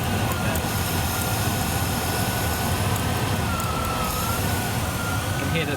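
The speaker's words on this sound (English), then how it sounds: "You can hear that the engine falters a little bit." Rover SD1 engine with adjusted carburettors idling steadily and close by, its lean running showing as a slight faltering in the otherwise continuous rumble.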